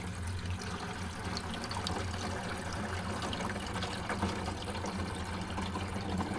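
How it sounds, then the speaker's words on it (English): Water from a jug just under a gallon pours into the tank of an AILINKE cool and warm mist humidifier, a soft, steady trickling flow that stays quiet and continuous throughout. "I'm pouring it in there and it's going around,"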